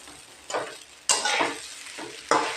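A ground paste of raw peanuts and green chilies being stirred and fried in hot oil, with a soft steady sizzle broken by three or four scraping strokes of a spatula against the pan, close and alone.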